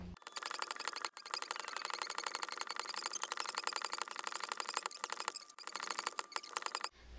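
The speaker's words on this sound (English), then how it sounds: "I'm gonna have to pump it back up as high as I can." Steady rhythmic hand pump strokes filling an Air Venturi Avenger .22 PCP air rifle, a fast repeating mechanical pumping and hiss that continues close up with a couple of brief pauses, no voices.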